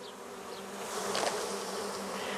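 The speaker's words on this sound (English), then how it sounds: "This looks exactly like a swarm in the wild." A honeybee swarm buzzes steadily, a dense close hum of many wings that holds throughout and swells slightly midway, with no voices.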